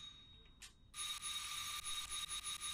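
Electronic doorbell ringing in a video game, a short tick followed by a sustained bright ringing tone with faint rhythmic pulses, quiet and clean.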